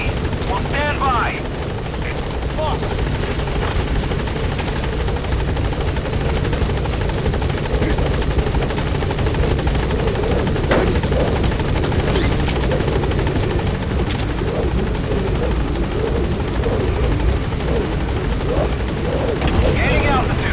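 A P-Quad helicopter sets down at a landing zone in Metal Gear Solid V, its rotor drone loud and constant throughout, while a radio voice talks over it.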